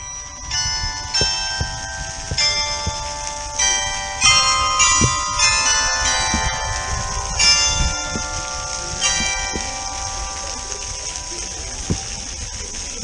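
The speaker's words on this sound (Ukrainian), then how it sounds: "І знову я приїхав в місто, і мене зустрічають дзвони." Church bells peal in a town as a cyclist on a long-distance solo tour arrives, a layered, ringing melody with repeated strikes that carries on steadily throughout.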